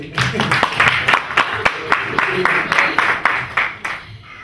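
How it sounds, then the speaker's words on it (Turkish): A lecture audience at an entrepreneurship event in Istanbul breaks into applause. The clapping is steady and moderately loud, with sharp individual claps that stand out above it for several seconds. "Bir alkış alalım belki."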